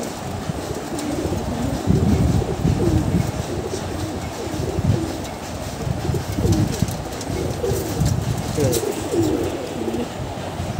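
Old-line Giribaz pigeons from a family loft coo repeatedly in soft, low, rolling phrases, several birds overlapping at close range with a steady faint background hum.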